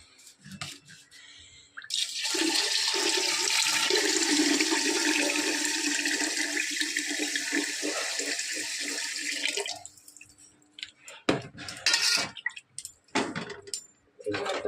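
Water pours into a pot of rice in a home kitchen, a loud, continuous gushing rush that runs for about eight seconds and then stops, followed by clinks and knocks of pots.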